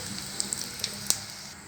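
Dried red chillies dropped into hot tempering oil with cumin and chana dal, giving a faint, steady sizzle broken by a handful of small, crisp pops.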